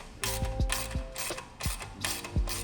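A ratchet tightens the hardware on a bicycle rear rack, clicking in quick, repeated strokes close by with no talking.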